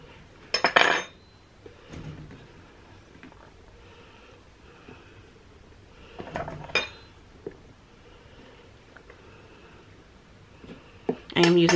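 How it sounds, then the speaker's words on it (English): The back of a dull butter knife working around dough on a silicone baking mat in a home kitchen: a few sharp metallic clinks and scrapes spaced apart, with quiet handling noise between them. "I am using the back of a dull butter knife because I do not want to cut my silpette."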